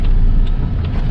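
A car idles and rumbles at close range in a garage area, a loud continuous low engine drone with faint higher noise on top, no speech.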